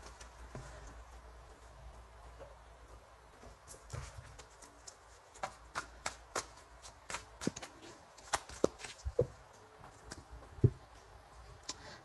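Tarot cards are shuffled for a reading, with soft, quiet rustling that turns into a series of crisp, irregular card snaps and taps close by.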